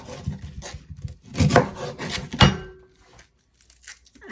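Cabbage being cut with a knife for homemade cabbage soup, giving several rasping, scraping strokes close by, loudest around the middle, then trailing off into near silence.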